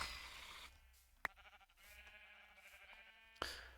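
Sheep in Minecraft bleat faintly a couple of times amid quiet game ambience, with brief sharp clicks from in-game actions and no talking.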